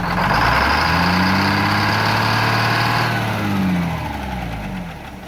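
A 4104 engine runs after a cylinder head swap, idling steadily and loudly up close with a deep, even hum that eases slightly in level toward the end. No one speaks.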